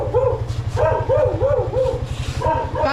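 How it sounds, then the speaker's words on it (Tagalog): A dog barks and yips repeatedly at close range, several quick, loud barks in a row over a steady low buzzing background. "layo ko pa na tahol-tahol ka na dyan"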